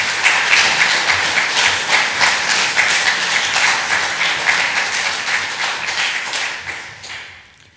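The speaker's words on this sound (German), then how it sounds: "Ihr Applaus, bitte." An audience at a school diploma handover for class 12a gives sustained, loud clapping that fills the room, the applause holding steady and then tapering off toward the end with no speech over it.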